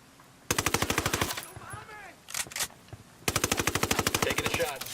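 Two long machine-gun bursts from the video game Ghost Recon Wildlands, loud and close, with rapid evenly spaced shots, separated by a gap where a voice speaks over quieter background noise.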